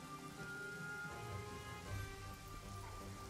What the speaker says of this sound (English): I'm not going to bother with the fire because it's raining